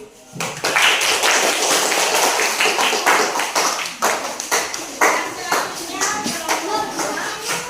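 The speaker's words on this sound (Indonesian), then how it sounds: "aplaus dulu" A group in a classroom lesson on Pancasila claps together, a short burst of dense, lively hand clapping that fades into scattered claps, with children's voices mixed in.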